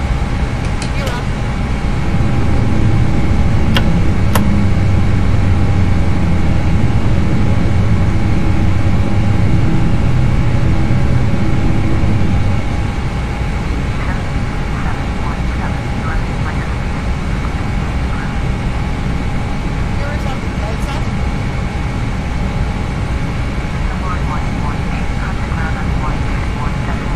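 An Airbus airliner's engines at climb thrust in the FSX flight simulator, after takeoff from Kuala Lumpur, produce a steady loud roar and whine. Faint clicks sound over it, and the engine noise settles slightly lower partway through.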